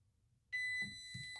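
A Govee temperature probe gives a single short high electronic beep as it powers on, close and clear, with a faint click or two after it.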